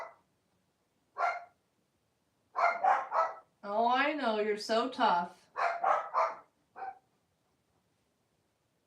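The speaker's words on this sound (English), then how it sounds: "My dogs heard people talking outside, so I guess they wanted to bark at them." Several small dogs bark indoors in short, sharp bursts with quiet gaps between them, and someone talks to them in the middle of the barking.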